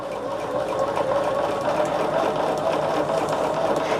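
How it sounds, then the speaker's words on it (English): Sewing machine running steadily as quilt strips are joined at a 1/4 inch seam, a continuous close mechanical whir with a fast stitching rhythm and no pauses. "So we are going to sew this at 1/4 inch."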